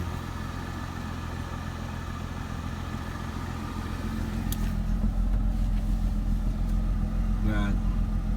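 A 2004 Mercedes SLK 320 flood car's engine idles steadily nearby, a low even hum that swells slightly louder partway through, with faint clicks on top and a person talking over it.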